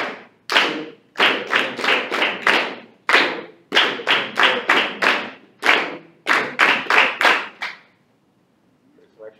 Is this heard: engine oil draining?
no